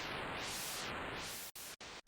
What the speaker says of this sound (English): a bit hard to hear this on broadband white noise